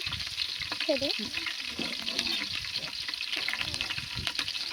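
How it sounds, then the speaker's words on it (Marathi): Green chillies and curry leaves sauté in hot oil in a pan, giving a constant bright sizzle with soft stirring scrapes and a brief voice sound early on. "छान असं परतून घ्यायचं आपल्याला."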